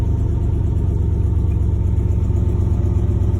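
A 1996 Chevy Silverado engine running on cold start, a loud, steady close-up rumble with a constant throttled drone and no speech.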